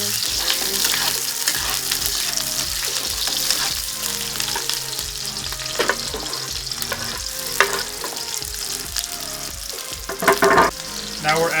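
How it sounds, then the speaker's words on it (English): Onions and garlic fry in a pan for pork adobo, giving a loud, continuous sizzle broken by scraping stirs and a few sharp clatters near the end. "now we are going to add the onions and the garlic."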